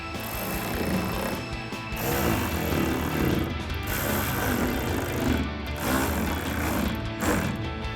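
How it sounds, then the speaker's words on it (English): Ratcheting socket wrench with a 5mm Allen socket tightening the bottom bolts on tonneau cover brackets on an F-150, a close, continuous rapid clicking that holds steady throughout. "now we'll go back and tighten the bottom bolt on all of our brackets"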